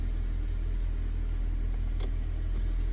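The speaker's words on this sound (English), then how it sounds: "The engine's running." A 2004 Honda Civic 1.7L four-cylinder, which has a coolant gauge swinging high and low, runs at a steady idle, giving a loud, close, continuous low engine hum without a break.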